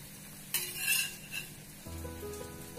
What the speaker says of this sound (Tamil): இந்த சைடும் நல்லா லோ ஃப்ளேமில் வச்சு நல்லா குக் பண்ணி எடுக்க போகிறேன்